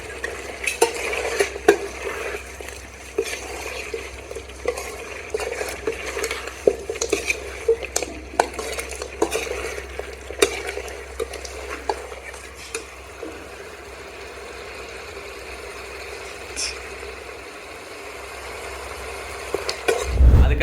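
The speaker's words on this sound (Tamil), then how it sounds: "ஓகே, கிளறி விட்ரு பல்லவி." Country chicken gravy is stirred in a pot, with a long run of clinking and scraping strokes against the metal over a faint sizzle and a low steady hum. The strokes thin out toward the end.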